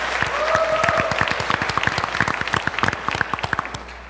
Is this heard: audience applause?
yes